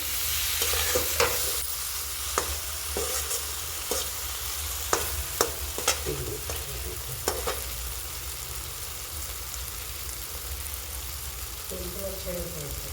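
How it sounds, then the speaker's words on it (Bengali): Spice paste for pointed gourd and prawn curry sautés in a wok with a steady sizzle, while a spatula scrapes and clinks against the pan at irregular moments. The sizzle stays loud and close. "মশলা কষা আমাদের মোটামুটি কমপ্লিট হতে চলেছে"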